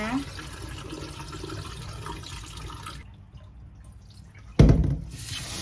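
Soaking water is tipped off a bowl of glutinous rice in a steady pouring trickle, followed after a pause by a sudden louder gush of tap water rinsing the grains.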